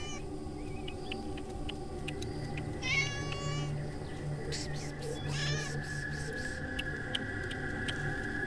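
A tabby cat meows a few times, faint and somewhat distant, over a steady background hum.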